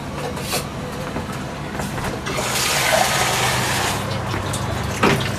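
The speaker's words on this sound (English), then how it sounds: "Then I'm going to add some water." Cold water runs and splashes steadily into flour and salt for a spinach tart dough for a few seconds amid faint kitchen clatter, fairly close and moderately loud.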